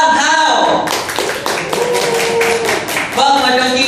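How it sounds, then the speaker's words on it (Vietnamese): Audience applause welcomes singer Quang Thao onto a stage show: a dense burst of many hands clapping for about two seconds, with music playing before and after it. "Xin quý vị cho một tràng pháo tay để chào đón ca sĩ Quang Thao."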